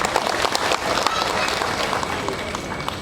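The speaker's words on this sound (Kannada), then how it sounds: "ಇದಕ್ಕೊಂದು ದೊಡ್ಡ ಚಪ್ಪಾಳೆ." A crowd at a Bajaj Electric auto-rickshaw launch event claps loudly and densely, with a full round of applause sustained for a few seconds over a voice.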